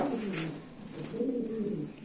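Pigeons coo continuously at a pigeon farm, a close, steady chorus of low throaty rolling calls overlapping one another with no pause and no talking.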